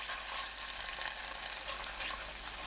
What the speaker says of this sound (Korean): 빈 곳에 된장 듬뿍 1큰술, 조청 4큰술, 참기름 2큰술 넣고 섞어주세요.